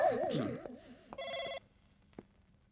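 A telephone rings with a warbling electronic trill, followed by a short burst of a brighter ring tone, then quiet with faint background noise.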